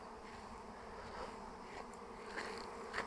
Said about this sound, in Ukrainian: Отакий такий рій вже зібрався.